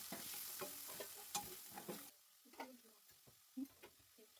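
Tamarind juice mixture for puliyogare frying in a pan, a soft sizzle with scattered scrapes and taps of a stirring spoon that thin out to sparse clicks after a couple of seconds.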